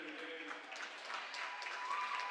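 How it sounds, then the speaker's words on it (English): Spectators at a girls' high school basketball game clap in a scattered round of applause in a gym, moderate and somewhat distant, mixed with crowd murmur and a few voices. "Nice round of applause here."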